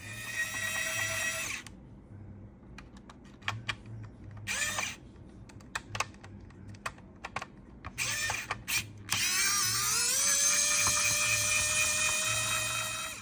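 Screws being removed from the shell of a Game Boy DMG handheld during a repair: a bench tool whirs in short bursts, with small clicks and ticks in the pauses and a longer whirring run near the end, close up with no talk.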